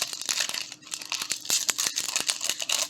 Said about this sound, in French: Les plastiques sont vraiment raides. Donc quand même assez raides à ouvrir.